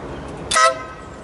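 A compact air horn bought on eBay and fitted to a Hyosung GV650 motorcycle gives one short, bright toot. It is heard from a little distance over quiet outdoor background sound.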